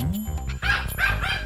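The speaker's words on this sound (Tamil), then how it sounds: "ஜூலி நாய் குறைக்குது." A dog named Julie barks repeatedly in close, loud yaps with short whimpering yips between them, the calls coming in quick irregular bursts with no talking over them.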